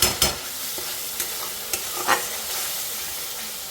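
Onion paste, tomato paste and chilli powder sizzle in hot oil, a spoon scraping and stirring through the masala with a few sharp taps on the pan; close, steady frying with no talking.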